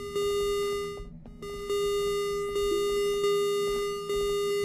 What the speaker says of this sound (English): that alarm freaks me out